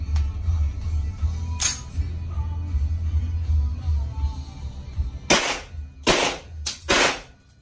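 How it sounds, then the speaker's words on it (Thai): M1911 blank gun firing blank rounds. Sharp, loud cracks ring out, three of them in quick succession near the end, after quieter handling noise and an earlier single snap. "ตัวปืนก็มี1911มาใหม่อันนี้ผมใส่ไปแค่3นัดนะครับแล้วก็เดี๋ยวมาทดสอบดูกันว่ายิงแล้วเป็นยังไง"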